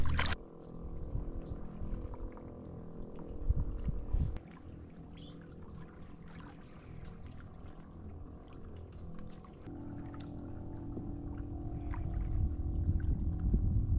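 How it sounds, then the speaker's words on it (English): Kayak or canoe paddling on open water, steady swishing and dripping strokes over a low rumble of wind and movement, growing fuller and louder toward the end. "we're gonna paddle on, enjoy some sun"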